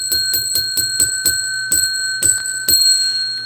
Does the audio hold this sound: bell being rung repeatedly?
yes